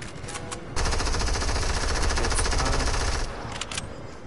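A drum gun in the video game Fortnite fires a sustained rapid automatic burst of about three seconds, a dense rattling stream of shots, fairly quiet in the mix.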